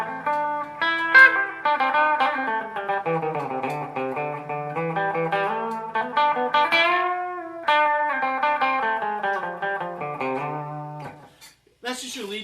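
Clean lead tone from an Epiphone Les Paul Classic electric guitar with light reverb and delay, a continuous melodic line of sustained and sliding notes played alone, ending with a brief pause and a few final notes.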